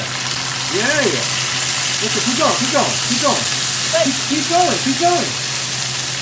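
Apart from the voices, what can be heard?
hot sauce sizzling in frying pan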